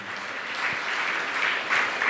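Brief, steady applause from listeners fills a Jain monk's sermon hall, a dense wash of clapping that holds at an even level for a couple of seconds.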